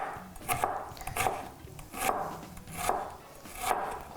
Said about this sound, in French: Je vais commencer à couper ça, vraiment hacher finement.